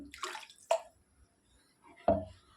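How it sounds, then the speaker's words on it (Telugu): A glass of water splashes into a pot of chicken curry in two or three short, close bursts with brief quiet between them. "ఆ గ్లాస్తో ఒక పెద్ద గ్లాస్ వాటర్ పోసేసేయండి"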